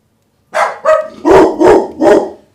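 A dog barks five times in quick succession, loud and close, with short gaps between the sharp barks and no other sound around them.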